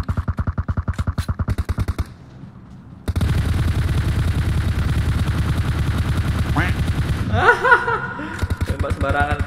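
Rapid automatic gunfire from random spraying in PUBG Mobile rattles in steady, loud bursts, pausing briefly before a dense continuous volley, while people talk and laugh over it.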